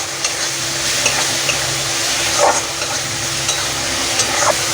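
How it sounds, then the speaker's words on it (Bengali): Dry ground spices sizzle in hot oil in a pan for a water chestnut curry, a continuous hiss with occasional soft stirring scrapes close by. "দিয়ে দিলাম শুকনো মশলাগুলো"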